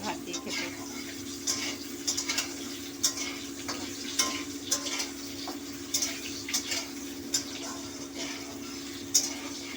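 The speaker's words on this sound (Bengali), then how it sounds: "আলুগুলো একটু হালকা করে নেড়ে নিই।" Potatoes are stirred in a pan of sizzling oil while a light curry cooks, a steady fry hiss broken by soft scraping and clinks from the spatula.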